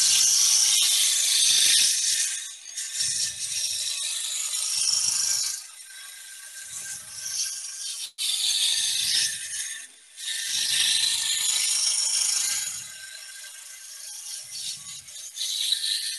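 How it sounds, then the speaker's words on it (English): A roughing gouge cuts into spinning wood on a lathe, giving repeated bursts of harsh, hissing shaving noise with a low rumble beneath, starting and stopping every few seconds up close. "Now I'll pick up the roughing gouge again and just come in a couple of inches off the end here."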